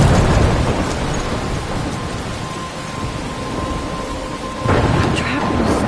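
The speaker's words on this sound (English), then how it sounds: "I'm trapped in a storm" A thunderstorm rumbles with heavy rain and low thunder, a loud wash of noise that swells again near the end.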